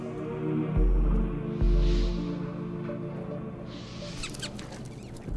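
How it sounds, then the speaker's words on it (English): Rats squeak in Metal Gear Solid: The Twin Snakes, faint high chirps and patter over a low droning ambience with a couple of deep thuds, a clearer squeaking flurry toward the end. "Rats."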